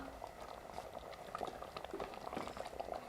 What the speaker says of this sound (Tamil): நல்லா கொதிச்சு வரட்டும்